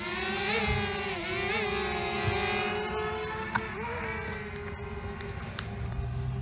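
A DJI Mavic Mini drone hovers and flies nearby, its propellers giving a steady, high, buzzing whir that rises and dips slightly in pitch as it lifts off and moves away.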